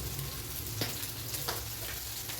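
Kerala-style sardine (mathi) fish curry bubbles and sizzles steadily in a pan close by, with a few soft pops breaking through the continuous hiss.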